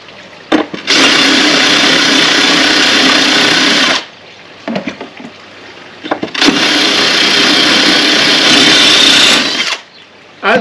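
A power drill bores through tile in two long, loud continuous whines, each lasting several seconds, with a short quieter gap between them.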